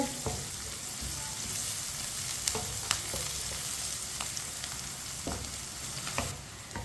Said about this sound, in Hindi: लहसुन और प्याज को हल्का सा ब्राउन कर लेंगे।